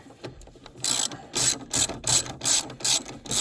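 A ratchet turns a 10 mm deep well socket on car battery terminal bolts, a quick run of close, crisp clicking bursts in an uneven rhythm, with no voices.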